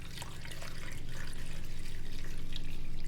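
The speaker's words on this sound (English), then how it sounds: "I'm taking just enough water that it covers the chicken" Water pours steadily from a tap into a pressure cooker pot holding chicken, a continuous close splashing and bubbling that grows slightly louder as the pot fills.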